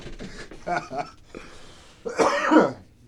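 A few rough coughs and throat-clearing sounds, close and fairly loud, with a stronger burst near the end and some voice mixed in.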